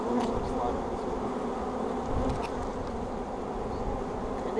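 A honey bee swarm around a hive, a dense, continuous close buzzing of many bees, steady and fairly loud with faint voices in the background.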